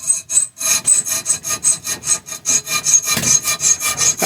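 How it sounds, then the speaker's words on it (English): A heavy-duty I-beam hacksaw cuts with rapid, even back-and-forth strokes, a loud close rasping rhythm of about four to five strokes per second. "Good old, real serious I-beam hacksaw."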